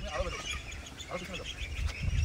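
Pekin ducks at a farm pond give short, scattered quacks at moderate distance, loudest near the end, with faint talk and rustling in the background.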